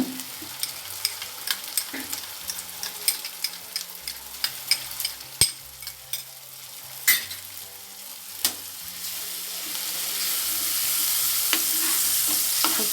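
Mint paste and ginger-chili paste sauté in a pan for Jain Punjabi green chole, with a steady sizzle and repeated sharp spoon scrapes and taps that give way to louder, continuous frying toward the end.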